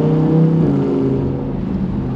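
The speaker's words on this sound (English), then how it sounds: "You get a growl of the exhaust there." Deep, rumbling exhaust growl from a Lamborghini Huracán Performante in Sport mode, a steady low drone, close and loud, shifting slightly in pitch partway through.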